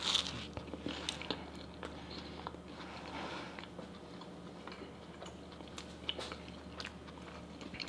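Crunchy bites and chewing of thick Texas toast dipped in Cane's sauce, several crisp crunches spread across the stretch at close range with no talking.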